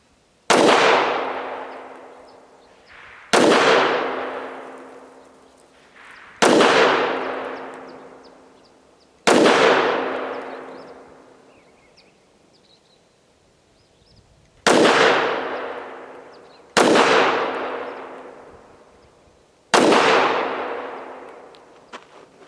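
Seven loud, sharp pistol shots from a Tisas PX 5.7 firing Fiocchi range ammunition at an outdoor gun range, each a hard crack followed by a long ringing decay, spaced a few seconds apart with a longer pause midway.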